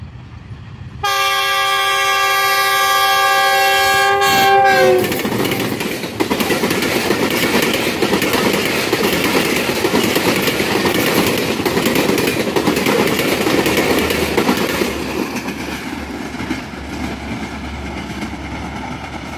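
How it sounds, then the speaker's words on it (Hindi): A high-speed passenger railcar passes through Kala Gujran station in Pakistan, opening with a long multi-tone horn blast, then a loud rushing roar and rhythmic wheel clatter close by that slowly fades as it goes. "सिग्नल डाउन है 102 डाउन सुबक रफ्तार रेल कार के लिए,"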